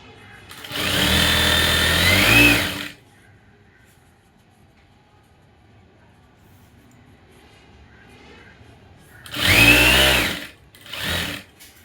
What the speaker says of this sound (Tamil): இந்த ஓரத்துலேயே தையல் போட்டு வரணும்.